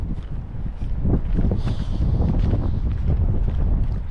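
Strong wind buffets the microphone in heavy, uneven gusts, a loud roaring rumble that persists throughout.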